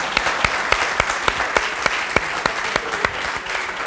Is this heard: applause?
yes